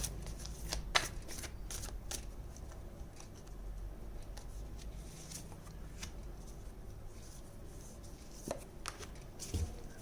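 Tarot cards are shuffled by hand, a steady, close, fairly quiet riffling and rustling with occasional sharper taps as the deck is squared, with no talking.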